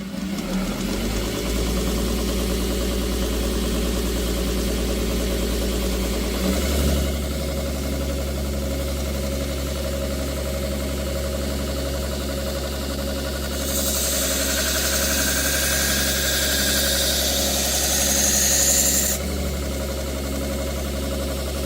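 A knife sharpening machine runs steadily with a low motor hum and mechanical vibration, a brighter grinding hiss rising midway as a folding knife blade is passed over it.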